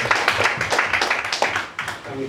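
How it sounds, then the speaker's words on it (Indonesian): Congregation applause at a church worship service, a close, fairly loud run of rhythmic hand claps from a modest crowd, tapering briefly near the end before resuming. "Berikan tepuk tangan yang meriah buat Bapak."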